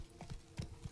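A few soft hoofbeats clip-clop in an irregular rhythm from a horse in the video game Witcher 3, close but fairly quiet over a low game ambience.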